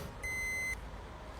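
A police breathalyzer in Belgium gives a single sustained electronic beep of about half a second, clear and close over low background rumble.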